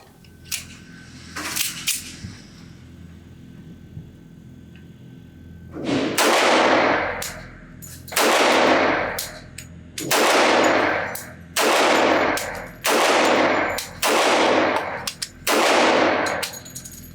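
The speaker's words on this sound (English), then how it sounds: "Put a magazine through this, see how it shoots, see if I have any function issues" A Remington R1 1911 pistol empties a magazine at a shooting range: seven loud, evenly spaced shots about two seconds apart, each with a long ringing tail, preceded by a couple of faint metallic clicks.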